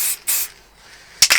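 Aerosol spray paint hisses in short bursts while a light coat goes onto a car part for a parking sensor install, with two bursts at the start, a quiet gap, then two more close and fairly loud.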